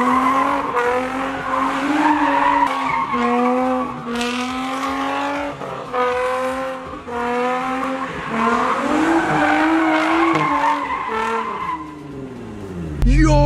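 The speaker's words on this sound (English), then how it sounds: "Yo, this car's so nice at sliding." Infiniti G35 sliding with long, loud, wavering tire squeals over engine noise, the screech rising and falling in pitch through several drawn-out passes before a sudden low thump at the end.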